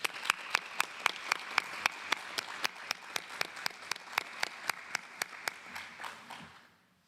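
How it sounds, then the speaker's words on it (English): A small audience claps in steady, sharp rhythmic beats for retiring Wendy McNair at a Board of Trustees meeting, the applause moderately loud and fading out toward the end. "Please join me in giving a heartfelt round of applause to Ms."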